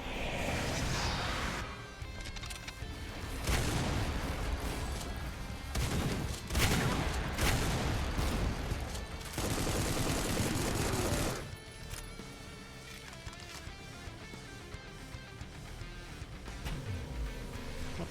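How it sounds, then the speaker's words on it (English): Rapid automatic chain gun fire in the retro shooter Supplice, a dense, loud stream of shots in sustained bursts with brief gaps, mixed with game music and explosive crashes. "there's the chain gun"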